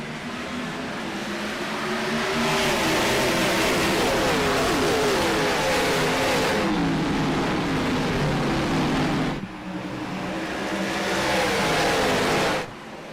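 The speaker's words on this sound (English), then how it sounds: "Brian McCann with the field in hand as we roll green to the green flag." IROC race cars roaring off at a green flag start on the Iowa oval, a loud sustained blend of many engines revving and accelerating together, with brief dips as the field passes, no voices heard.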